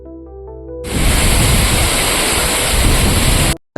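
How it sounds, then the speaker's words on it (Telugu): Gundala waterfall drops from about 80 feet with a dense, roaring wash of water that comes in suddenly and holds loud and steady, following a brief quieter tonal stretch at the start. "దాదాపు ఎనభై అడుగుల ఎత్తు నుంచి అయితే వాటర్ పడుతున్నాయి"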